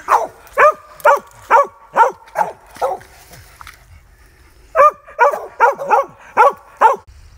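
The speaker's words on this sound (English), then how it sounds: "play with our puppy Derby just a little bit" A puppy barks in quick bursts of roughly six sharp yips, pauses briefly, then barks again in another rapid series while playing with a squirrel-scented drag hung in a small tree outdoors during hunting-dog training.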